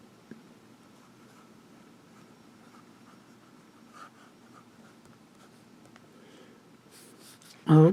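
A Visconti Homo Sapiens Magma fountain pen scratches faintly across paper in soft, irregular strokes, quiet and close, with a sudden loud knock at the very end.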